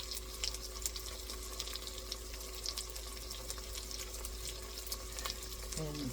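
Kitchen tap water running steadily in the background of a home kitchen while chorizo cooks, a continuous faint splashing hiss with a brief clatter near the end.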